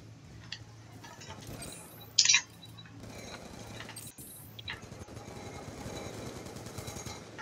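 Gunfire from the video game Call of Duty 2 crackles in quick, scattered bursts of sharp shots over a low ambient game background, with one louder burst standing out.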